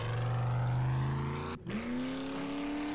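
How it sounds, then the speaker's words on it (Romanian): A motorbike engine in the video game 7 Days to Die drones loudly and steadily. It dips for a moment, then revs up to a higher pitch and holds there. "Merg eu cu motor."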